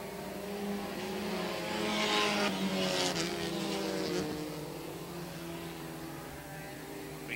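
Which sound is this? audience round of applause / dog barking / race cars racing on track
race cars racing on track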